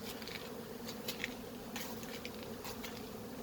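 Honey bees from a new hybrid colony buzz in a soft, continuous hum, with scattered brighter flickers as individual bees pass near, quiet overall and with no voices.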